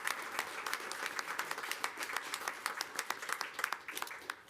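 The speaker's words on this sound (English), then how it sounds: "Let's give her a round of applause." A round of applause at a joint city council and stadium authority meeting, a modest room of people clapping steadily with distinct individual claps audible throughout, fairly close and without speech.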